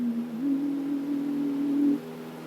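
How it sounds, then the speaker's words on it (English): An ethereal, sustained tonal drone piped through the public address system of the abandoned Tegel airport in Berlin, a steady wavering pitch held for about two seconds before it drops slightly, with a hushed, roomy background. "The ethereal sounds you're hearing being played across the public address system at Tegel is the work of Turner Prize-winning sound artist Susan P"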